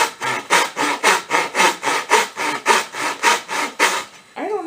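Teeth of a hand carving tool scrape and bite into wood in a steady rhythm of about a dozen loud, close rasping strokes, each rising and falling, before the motion breaks off at the end.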